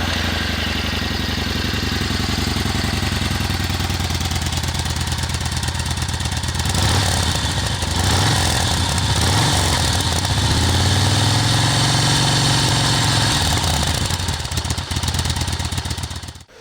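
A Moto Guzzi V9 Roamer motorcycle engine idles with a full, dull, steady throb heard up close, then a brief blip of revs midway before it settles and cuts off abruptly at the end, with no voices.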